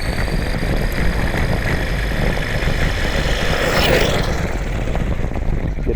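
Stock Imex Warrior RC car motor winding out at full throttle during a GPS speed run, a steady loud electric whine with broadband rush that swells briefly as the car passes close.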